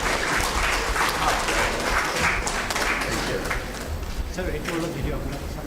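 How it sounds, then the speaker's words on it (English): An audience at a conference inauguration claps for the chief guest, with sustained, fairly loud applause that fills the hall and fades slightly toward the end, while voices murmur underneath. "please give a huge round of applause for our Chief Guest"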